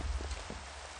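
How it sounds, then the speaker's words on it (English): Rain pattering at night in a video game, a steady hiss of falling drops with a low rumble beneath, continuous and fairly soft with no voices. "And it's raining."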